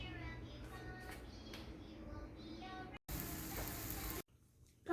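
Gobhi paratha, missi roti and an omelette sizzling on a home kitchen stove, a steady frying hiss under children's voices and kitchen clatter, with a brief louder burst of sizzle near the end.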